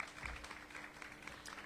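A small press-conference audience applauds the MedAssist team, a short, moderately faint patter of clapping throughout.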